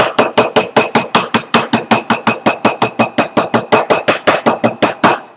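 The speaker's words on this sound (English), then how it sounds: "I'm taking a flat-faced hammer here and just give it a couple of taps." A flat-faced hammer strikes a metal valet tray in a fast, steady series of about thirty sharp, loud taps, each ringing briefly before the next, close up with no talk.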